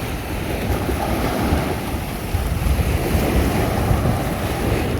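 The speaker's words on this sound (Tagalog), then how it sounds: "Tapos mataas yung tubig dagat. Kaso maalon," Rough sea surf at a fish port with gusty wind buffeting the microphone, a steady broadband roar of waves with swelling surges, close and loud, no voices.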